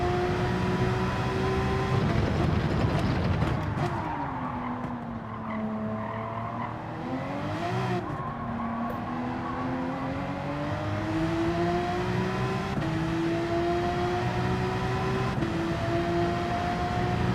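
A Porsche race car lapping in Gran Turismo 7, its engine droning steadily with rising and falling pitch through gear changes, plus tyre squeal and skidding noise, loud and continuous throughout.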